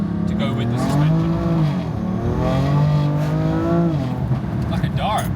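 A BMW F80/F82 M3/M4 fitted with VRSF downpipes accelerates hard, its engine note climbing, dropping at a gear change, then climbing again, loud and close, with a voice talking over it.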